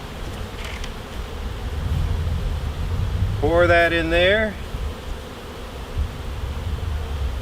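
Honeybees drone around an open hive while about 2 gallons of sugar syrup is poured into a feeder on top, a steady low buzz running beneath a short spoken instruction.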